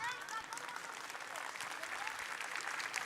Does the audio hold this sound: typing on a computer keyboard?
no